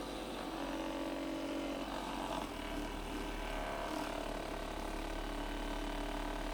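A handheld percussive massage gun running on its lowest setting, a steady mechanical whirring buzz held close for several seconds without pause, with no talking.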